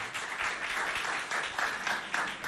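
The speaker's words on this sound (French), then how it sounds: "Je n'entends rien. Applaudissez-vous bien fort." Schoolchildren applaud together at a school competition event, a dense steady roar of many hands clapping that holds throughout with slight swells, no talking.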